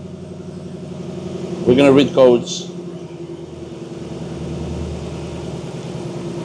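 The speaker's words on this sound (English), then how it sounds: "ignition on, engine running" A 2005 Ford Mustang engine idles steadily throughout, a low even hum with a short burst of talk over it near the start.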